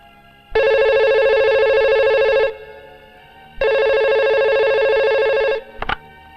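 A telephone rings in a South Indian crime film dubbed in Hindi, two long loud electronic rings separated by a pause, then a brief click as it is answered, with no talk.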